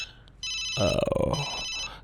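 A mobile phone ringtone playing as a repeating electronic tone pattern that swells louder midway, loud and close, with no talk over it.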